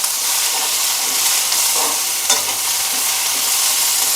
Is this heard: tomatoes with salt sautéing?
yes